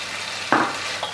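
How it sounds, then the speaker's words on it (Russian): Apples, pumpkin and candied orange peel sizzle softly in a frying pan, with a steady faint hiss and one or two brief stirring scrapes, close by and without talk. "Теперь я добавляю в сковородку апельсиновые цукаты."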